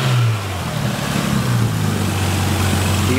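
Nissan Stagea with a stock-turbo RB25 twin-cam 24-valve 2.5-liter engine running, heard close from the engine bay as a loud, steady mechanical hum with a brief dip early on, with no talking.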